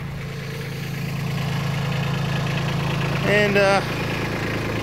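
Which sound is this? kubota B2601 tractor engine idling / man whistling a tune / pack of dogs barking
kubota B2601 tractor engine idling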